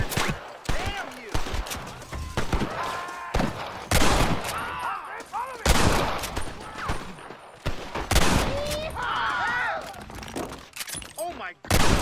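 Gunfire in Red Dead Redemption hardcore mode during a house shootout, with repeated loud shots and clattering impacts spread throughout, mixed with shouting voices and music.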